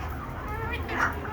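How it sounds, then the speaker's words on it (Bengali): Broody hens cluck softly in a poultry shed, a few low murmuring clucks close by, with a person talking over them. "ওরা হচ্ছে কোচা মুরগি"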